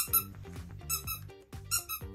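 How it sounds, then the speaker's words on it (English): A toy squeaker set off repeatedly by an attachment on a motorized cat food feeder, giving four bright, rubbery squeaks in a steady rhythm, close and fairly loud with no talking. "we've added an attachment to our cat food feeding motor, which as it goes over the squeaker, it sets it off"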